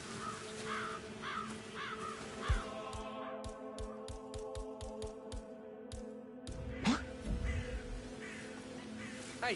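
Crows caw repeatedly in a Hitman 3 level set in Dubai, several rhythmic harsh calls early on, then a flurry of short clicks and a louder caw with a thud, over a humming ambient bed.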